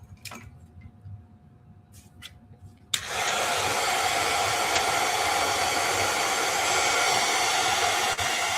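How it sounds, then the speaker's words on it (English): A hair dryer blowing onto a sketch: after a few quiet seconds with faint small taps, it switches on abruptly and runs as a loud, steady, close whoosh to the end. "I'm going to dry this."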